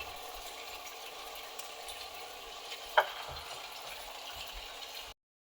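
Chopped tomatoes and spices frying in a pan of well-cooked ingredients for an old-style Bengali vegetarian dish, a steady low sizzle throughout with one sharp clink near the middle.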